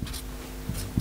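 Pen or marker writing on a board during a Bangla-to-English translation lesson, a short one-second stroke with soft scratching bursts near the start and end, close and fairly quiet.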